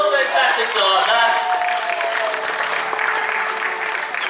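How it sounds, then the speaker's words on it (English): Audience applause at a tiger show at a wildlife park on the Gold Coast, a steady wash of many clapping hands from the crowd, with faint chatter and a few tonal sounds mixed in beneath. "Give her a round of applause, fantastic job"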